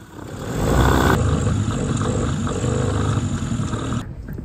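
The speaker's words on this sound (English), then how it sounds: "manually with my fingers just kind of open it up, give it a couple revs" The carbureted engine of a homemade boat car on a trawler is revved by hand at the throttle: a roar swells up quickly, holds loud and steady for a few seconds, then cuts off abruptly.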